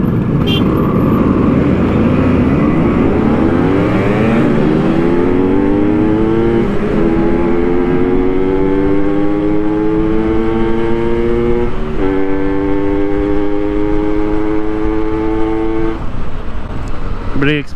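Several Yamaha RD 350 motorcycle engines fired up at a race, loud continuous revving whose pitch climbs and holds as the bikes rev together, close and dominant over the whole stretch, with voices buried underneath.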